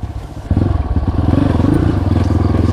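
Kawasaki KLX with a 248 bore-up engine revving hard close by, a loud continuous throbbing exhaust that jumps up sharply after a brief quieter idle and holds steady.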